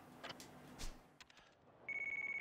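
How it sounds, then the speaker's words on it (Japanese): A phone rings in the video game Yakuza Kiwami, a steady electronic trill that starts near the end after a few quieter scattered clicks and thumps. "ゆうやから電話ごめん"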